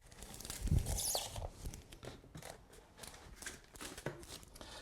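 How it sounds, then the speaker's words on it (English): A cutter slices away plastic dust-sheet film during a chimney sweeping setup, a short sharp rip and snip near the start followed by faint crinkling and handling noises in a quiet room. "Then get your cutter and just simply cut the film away"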